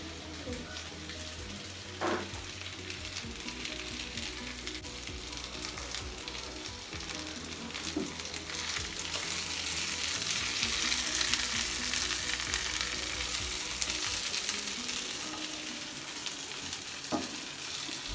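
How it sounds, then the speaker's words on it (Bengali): Small pieces of iftar food, likely onion fritters, fry in a pan with a steady sizzle and occasional stirring clinks, close and continuous throughout. "এখন আমি এগুলো ছোট ছোট করে ফ্রাই প্যানে ভেজে নিব।"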